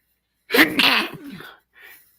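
A single sharp sneeze close by, followed by a short quieter exhale after a brief pause.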